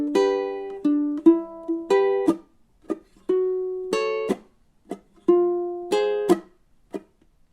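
Ukulele plays a blues riff of sustained chords broken by short muted chops in a repeating, swung pattern, close and alone with no talking.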